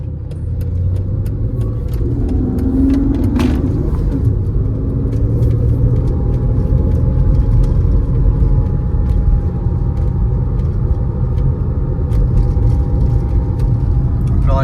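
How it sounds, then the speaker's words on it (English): A Mercedes C32 AMG W203 running on E85 pulls hard through second gear, its loud, steady engine roar and rumble rising and holding close throughout with no voices over it. "I think I'm gonna do a second gear pull, see how that looks"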